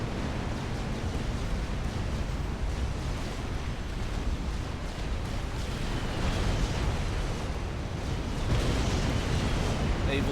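Heavy weapons fire destroying a naval yard in the real-time strategy game Supreme Commander, a dense continuous roar of rumbling explosions and blasts, loud and sustained with no pauses.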